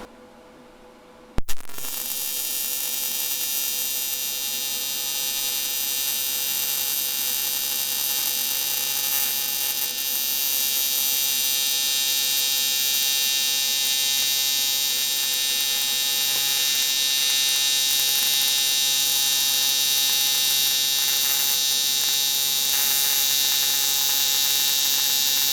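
TIG welding a small aluminum tank, a sudden start into a continuous loud buzzing, crackling arc hiss that holds steady for the rest of the time, close up.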